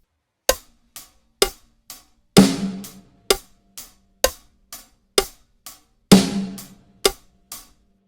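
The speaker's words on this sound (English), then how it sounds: "So with the hi-hat and the snare together, that would sound like this." Drum kit pattern of steady eighth-note hi-hat strokes with a louder, ringing snare hit landing on beat three twice, played close and clear without any voices.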